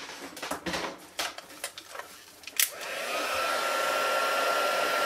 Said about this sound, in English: I'm going to get my heat gun going.